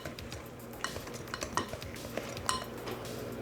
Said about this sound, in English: so that we can fold in those egg whites